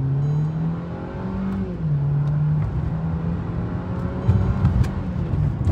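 Mercedes E180 with 99,000 km accelerating on the road, heard from inside as the engine note climbs through gears with a brief dip at a shift, steady road and wind noise beneath.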